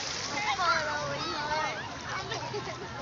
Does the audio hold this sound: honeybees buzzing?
no